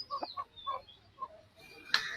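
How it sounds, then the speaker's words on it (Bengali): Chickens and roosters at a hill-country poultry market in Rangunia give a few short, faint clucks, spaced out over a quiet background, ending with a brief sharp clink. "সুন্দর মোরগ।"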